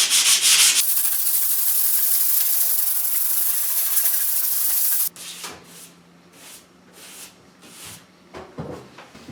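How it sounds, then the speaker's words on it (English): Steady, loud abrasive rasping of sanding dried filler over a patched hole in a ceiling, continuous for several seconds, then shorter, quieter scrubbing strokes. "we can sand it again"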